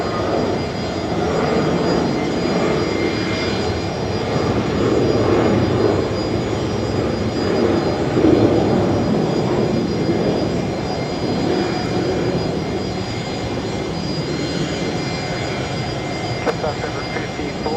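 A Boeing 737 jet taxis at Brisbane Airport, its broad engine rumble and whine holding steady and fairly close throughout, with faint radio-like chatter mixed in at times.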